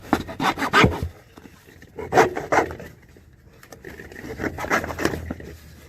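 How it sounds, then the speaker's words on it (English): A basement footer drain pipe being cut off so it sticks into a pit, with three bursts of rough rasping sawing strokes and short pauses between them, close and moderately loud. "so I'm going to cut this pipe off so it sticks well into the pit"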